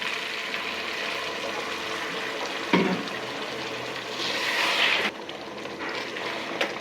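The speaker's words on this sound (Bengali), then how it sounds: "এখন আমি অল্প গরম জল দিয়ে দিচ্ছি, গরম জল হালকা।" Hot water is poured into chicken curry cooking in a pan, a soft steady liquid rush with a brief clank partway through and a louder pouring swell near the end, with no talking.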